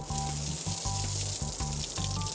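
A heap of garlic and dried balaw frying in hot oil in a pan, a loud, continuous close sizzle and crackle with a repeating low tonal hum running under it.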